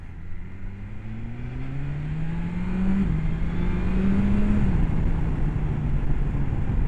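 A 2024 BMW S1000XR TE motorcycle in rain mode accelerating uphill: a steady engine note climbs in pitch with brief dips at gear changes, over constant wind and road noise, with no one speaking.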